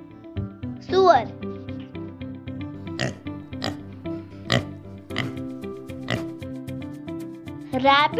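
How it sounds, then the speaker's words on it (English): A pig gives several short, clear oinks and grunts spaced a second or so apart over soft background music, with a child-like voice speaking at the start and end. "Pig"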